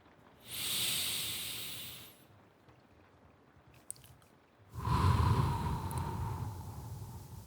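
Slow, relaxed breathing in a calm ASMR role-play setting: a long soft airy exhale, a pause with a tiny click, then a second fuller, louder breath that trails off gently, close to the microphone with no talking.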